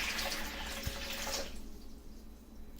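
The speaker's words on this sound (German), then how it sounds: "Natalia schüttet das Wasser in die Schüssel." Water poured from a microwave-heated container into a bowl while making Semmeln in a kitchen, a steady splashing pour that stops after about a second and a half, leaving a quiet room.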